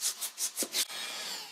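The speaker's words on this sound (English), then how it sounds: "we're gonna start just hand sanding it down" Hand sanding of a compound-covered custom build, five rhythmic rasping strokes close up and fairly quiet, followed by a faint steady background hiss.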